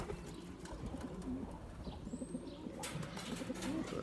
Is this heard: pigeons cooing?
yes